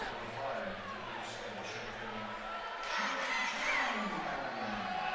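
A basketball crowd at a boys' high school game, St. Bernard at New London, fills the gym with cheering and shouting that swells near the end, under an announcer's voice.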